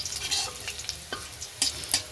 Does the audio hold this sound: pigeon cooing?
no